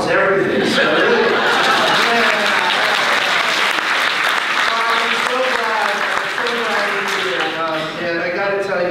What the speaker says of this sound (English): But you guys clap at almost everything.